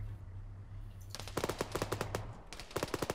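Rapid bursts of machine gun fire from ARMA 3 military combat, several quick volleys of sharp repeated shots starting after a second of quiet and ending in a final short burst, loud and close.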